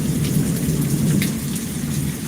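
Steady rain with a low, continuous thunder rumble running underneath, heard close and fairly loud throughout with no voices.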